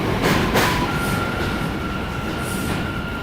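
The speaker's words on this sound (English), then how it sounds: "Sometimes on the bridge, Z trains passing under us." A New York City Z subway train rumbles past beneath a bridge, a steady loud roar with a faint sustained metallic whine running through it.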